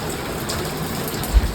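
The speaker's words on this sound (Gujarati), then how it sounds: "ત્યાં સુધી ભલે આવતો વરસાદ" Steady rain falls outdoors in a broad, even hiss, with a brief low thump near the end and no talking.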